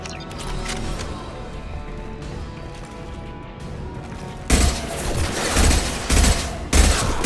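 Gunfire in the Mass Effect 2 video game: a muffled, rumbling stretch of fighting gives way to several loud, sharp shots and impacts in quick bursts, with no voices.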